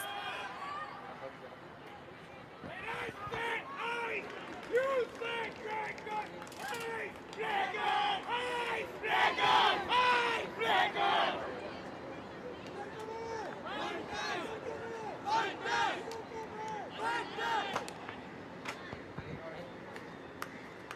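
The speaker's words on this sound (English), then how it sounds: "Both the teams seems to be cheering one by one." Ultimate frisbee teams cheer after a score in a Mumbai league game, with chants and shouts rising and falling in waves from players nearby. A commentator talks over the cheering.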